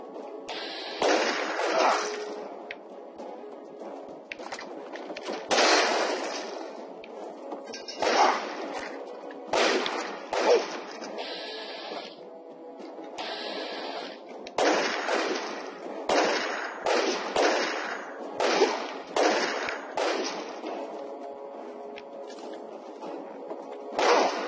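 Gunfire in the video game Fallout 3: repeated bursts of sharp shots and impacts in uneven clusters throughout, fairly loud, with no talking over them.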